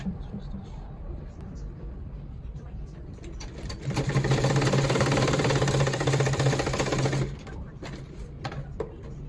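Sewing machine stitching down a trouser side pocket, a steady mechanical whirring run of about three and a half seconds in the middle, louder than the quieter room noise before and after.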